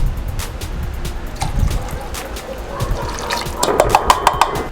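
Beer and apple cider vinegar pour into a cooking pot for a brisket mop mixture, a close splashing and trickling stream that turns into bright gurgling toward the end.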